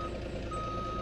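Steady, loud electronic reversing beep at one fixed pitch from a Ducato van in BeamNG, backing out during a crane recovery from a lake, sounding continuously over a low engine rumble.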